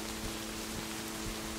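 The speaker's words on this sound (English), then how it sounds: "Oh, that's a good rain noise on the car." In the tactical shooter game Ready or Not, rain pours onto a car with a dense, even hiss of drops, steady and close, with no other sounds standing out.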